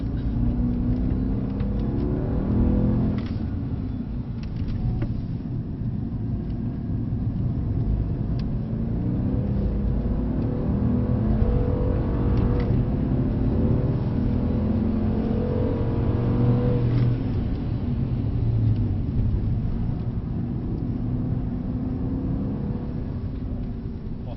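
A Mercedes-Benz C63 AMG driven on the track at Brooklands, its engine rumbling and revving steadily throughout, loud and close, with surges as it accelerates through bends.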